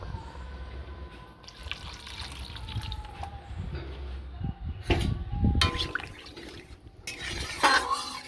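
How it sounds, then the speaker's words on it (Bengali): Water is poured into a spiced masala base for a rohu fish curry, making soft splashing and trickling with a few louder bursts, near but faint overall. "মশলা কষানো আমার হয়ে এসছে, এবার আমি দিয়ে দেবো কিছুটা জল।"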